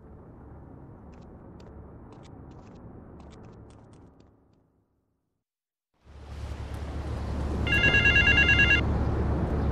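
Payphone in Torrington rings in Grand Theft Auto III, a single short burst of electronic ringing over loud engine and street noise that follows a brief silence.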